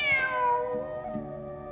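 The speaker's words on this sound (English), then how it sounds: "The cat!" In the video game Genshin Impact, a cat gives a clear, drawn-out meow with a falling pitch, followed by a softer second meow, close and alone with no talk.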